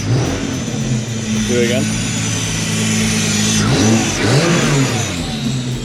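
A Toyota MK4 Supra engine revs with no muffler and no catalytic converters, a close, steady idle rising into a couple of quick throttle blips, while someone talks over it.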